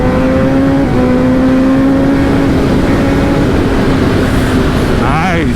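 Kawasaki ZX-10RR litre-class motorcycle engine running steadily, a loud droning hum that holds its pitch, then a short rising rev near the end.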